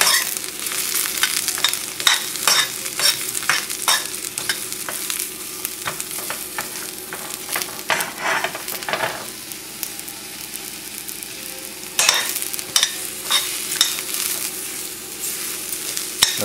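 Garlic and mushrooms fry in a pan with a steady sizzle, broken by repeated scraping and clacking stirs that come and go at moderate volume with no voices.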